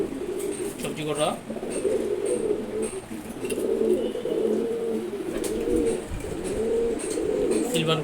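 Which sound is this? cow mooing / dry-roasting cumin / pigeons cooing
pigeons cooing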